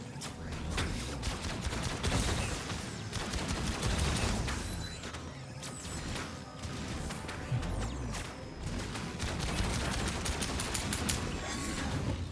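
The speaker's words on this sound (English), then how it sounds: "Oh, it's an automatic weapon. Oh, I was pushing the trigger the whole time." Automatic weapon fire rattles in Outcast: A New Beginning, long sustained bursts of rapid shots that run almost continuously, loud and close, with clanking mechanical impacts scattered through.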